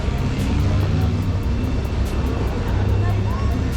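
A steady, dense roar of street traffic in Mexico City fills the air continuously, with cars and engines blending into one unbroken wash of noise.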